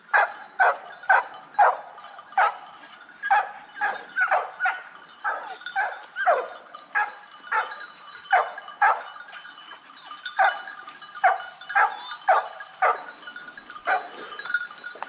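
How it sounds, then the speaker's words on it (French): Hunting dogs at a driven wild boar hunt bay at a freshly shot boar, giving a steady run of sharp, loud barks and higher yips about once a second for fifteen seconds, with several dogs overlapping nearby outdoors. "c'est l'arrivée des chiens sur l'animal prélevé"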